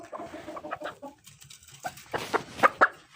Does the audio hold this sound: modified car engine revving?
no